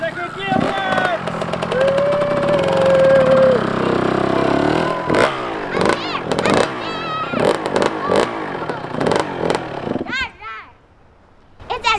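A rebuilt 1991 Kawasaki KX125 two-stroke dirt bike runs loud and close, revving and buzzing up and down before dropping toward idle near the end. A voice talks over much of it.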